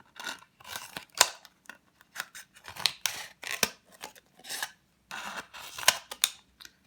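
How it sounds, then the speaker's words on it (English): Scissors snipping up into a plastic pop bottle to cut petal segments, a close series of crisp crunching cuts in irregular bursts with short pauses between, no voices. "Take your base and cut up between the segments as far as you can go."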